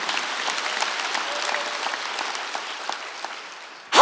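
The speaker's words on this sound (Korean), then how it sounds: "박수." Applause rises from a church congregation during a Sunday worship service, moderately loud and steady with scattered sharper claps, then cuts off abruptly into a loud burst at the very end.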